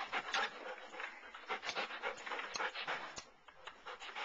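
A dog pants rapidly and steadily at close range indoors, quick breathy bursts continuing throughout with a few faint rustles.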